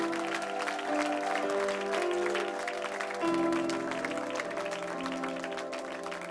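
Church congregation applauding and cheering to honour Jesus, a dense, steady wash of clapping that carries over sustained music for the whole stretch.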